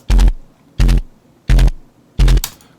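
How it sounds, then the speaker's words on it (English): Four evenly spaced, punchy bursts of pitched-up machine gun bass layered with drums, each hit loud and short with clear gaps between, played alone. "And then just got a little bit of a machine gun bass here,"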